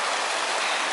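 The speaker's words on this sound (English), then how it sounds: "A tricky river crossing here." Dense, even roar of a river at a tricky crossing on the way to Cape Wrath, loud and close, unbroken for the whole short moment with no voices.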